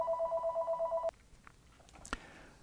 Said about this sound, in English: Anyway, sorry about the phone call.